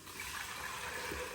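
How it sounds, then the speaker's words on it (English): Water gushes steadily into a pot of vegan Cuban black bean stew, a brief, soft, continuous pour with no voices. "let's pour our water."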